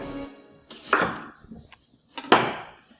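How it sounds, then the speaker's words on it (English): A knife chops through potatoes on a board for pakora, a few separate, sharp knocks with brief scraping between them, close and alone. "So I'm just going to chop this up"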